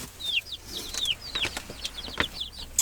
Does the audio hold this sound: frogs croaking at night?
no